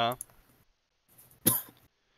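One sharp, close cough following a short bit of speech, then quiet.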